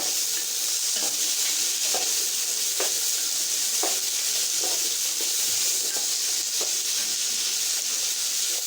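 Mixed vegetables with potatoes frying in a pan for sambhar rice: a steady, loud hiss of sizzling oil with regular scraping strokes of a spatula about once a second, close by and with no voices.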